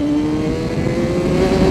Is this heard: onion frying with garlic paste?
no